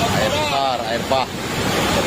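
Swollen river floodwater rushing over a collapsed road on the Padang–Sungai Rumbai route in West Sumatra, a loud, continuous roar with wind buffeting the microphone and voices talking over it.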